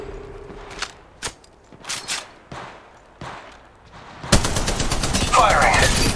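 Gunfire in the mobile battle royale game Apex Legends Mobile during a squad fight: scattered single shots and short bursts, then a louder sustained stretch of rapid fire with impacts, heard among game callouts.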